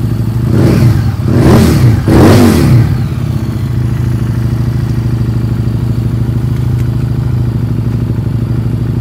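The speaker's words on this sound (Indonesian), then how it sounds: "Gue coba geber sedikit ya." Close by, a used Harley-Davidson Street motorcycle at a secondhand dealer gets three quick throttle blips, each rising roar dropping back, before it settles into a steady, loud, lumpy idle for the rest.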